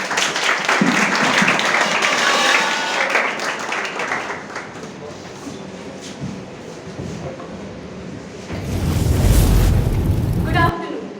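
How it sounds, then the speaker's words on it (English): An audience applauds the speakers at a talk show session, clapping that starts strong, fades into quieter room sound with voices, then swells again in a loud, dense burst near the end. "Please give a big round of applause for them."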